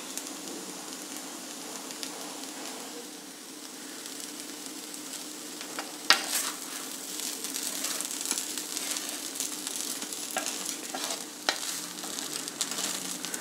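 Flattened rice (avalakki) with coriander leaves and grated coconut frying in a pan, a steady soft sizzle broken by scraping stirs and an occasional sharp clack of the spoon, heard without talk.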